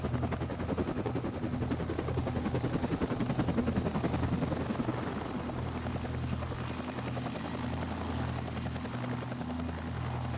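Helicopter at a freeride ski and snowboard event in the mountains, a continuous loud rotor thump and engine whine that holds steady throughout.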